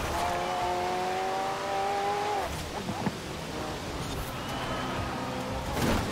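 Revving McLaren P1 engine in Forza Horizon 4, pitch climbing in steady tones then dropping as gears change, with brief tire and impact noises.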